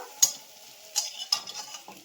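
Onions fry in oil in a pan until browned, giving a soft steady sizzle broken by a few sharp scraping stirs of a utensil, close and clear with no talking.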